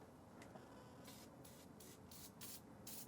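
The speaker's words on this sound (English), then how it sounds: "We'll just kind of spray everything while we're here" Several short bursts of aerosol spray hissing onto rusty Jeep TJ engine parts in an uneven rhythm, close and fairly loud over a quiet background.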